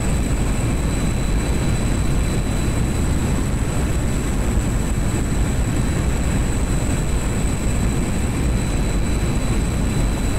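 An A-4 jet aircraft in a combat flight video game, a steady, loud engine roar with a high whine, constant and unbroken as it runs up for a long takeoff roll, no talk.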